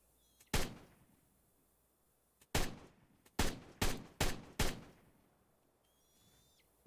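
Phase cannon fire in the video game Ark Genesis 2: about six sharp, punchy blasts, one isolated shot followed by a quick irregular volley, each decaying fast over a quiet background.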